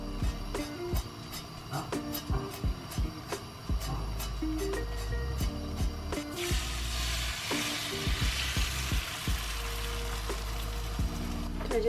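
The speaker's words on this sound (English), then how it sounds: "We're just going to scramble the eggs until they're just slightly underdone." Eggs scrambling in a hot pan after a seasoning of garlic powder, cayenne, salt and pepper, giving a steady close sizzle and frying hiss with scraping stirs and clinks, growing louder and brighter in the second half.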